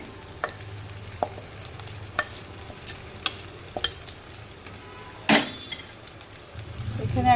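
A spatula stirs egg chicken chowmein with scrambled egg in a frying pan, giving scattered clinks and scrapes against the metal, one louder clatter and a soft sizzle rising toward the end.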